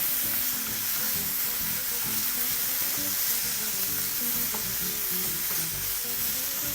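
Chopped chicken fries in a pan with frozen peas and chickpeas, giving a steady, loud, close sizzle with occasional stirring scrapes throughout, no voices.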